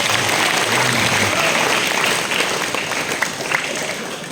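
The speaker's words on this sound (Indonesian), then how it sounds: "Oke, tepuk tangan dulu dong." Audience at an entrepreneurship talk show clapping loudly as a sustained burst of applause that slowly tapers off, with a few scattered louder claps near the end.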